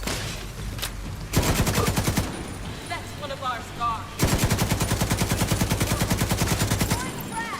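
Turret gunfire in The Division 2 comes as two long automatic bursts of rapid, evenly spaced shots, loud and close, separated by a short lull of scattered combat sounds.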